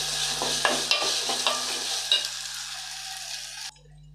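Ginger garlic paste fries and is stirred in a pan while cooking biryani: a steady sizzle with repeated scraping strokes from the spoon, close up and alone, then the sizzle drops away near the end.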